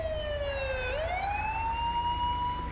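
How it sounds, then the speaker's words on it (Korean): A wailing emergency vehicle siren from the video game GTA V sweeps down, then rises and holds a high steady tone, loud and alone over a low engine rumble. "앰뷸런스 응급 출동"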